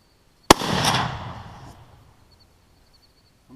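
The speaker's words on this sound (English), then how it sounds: "I'm using a Savage Axis" Single rifle shot from a Savage Axis .270 fired outdoors, a sharp loud crack followed by a long rolling echo that fades over about a second and a half.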